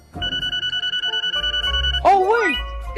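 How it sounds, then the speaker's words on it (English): A mobile phone rings inside a backpack with a rapid, steady electronic trill lasting about two seconds. A voice then breaks in over it. "Whose phone is that?"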